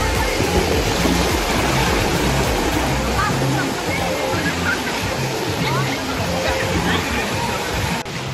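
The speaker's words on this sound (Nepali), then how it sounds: "यहाँ चाहिँ उ त्यो बाल्टी भरिएपछि चाहिँ यो पानी सबै यता आउँदो रहेछ" Water cascades down from a tipping bucket at an aquatic center pool, a loud continuous rushing splash that fills the whole clip with a crowd's chatter and shouts mixed in.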